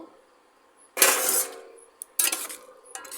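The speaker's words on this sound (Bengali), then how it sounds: "থালা খুলে দেখে নেব" The lid comes off a pot of koi fish curry with potatoes in two bright metallic clanks and scrapes, each ringing briefly before fading. Close and fairly loud against a quiet kitchen, with a small tap between them and a third lighter clink near the end.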